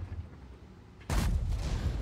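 A tank cannon fires in World of Tanks, one sudden loud broadband blast about halfway through, followed by a sustained rumbling roar that fills the rest of the moment; quiet low engine hum before it.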